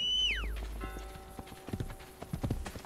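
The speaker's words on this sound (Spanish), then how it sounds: "¿Dónde está mi caballo?" Horse hooves clip-clop in the Assassin's Creed Brotherhood video game, a neigh opening the clip before irregular hoof strikes pick up and grow louder as the horse approaches, with a steady background tone.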